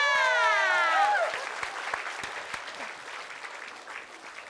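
An Indonesian TV comedy show's studio audience claps steadily in a warm, dense round of applause, with a few whoops or shouts rising over it at the start.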